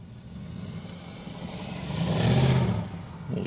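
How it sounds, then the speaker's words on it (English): A car roars past nearby at the Westerschelde waterfront in the Netherlands, its engine swelling to a loud peak and then fading, with a low rumble beneath throughout. "that was a loud car"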